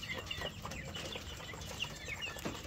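Crossbred chickens cluck close by in a steady chatter of short calls over a constant farmyard background.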